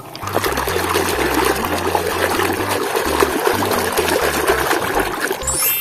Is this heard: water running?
yes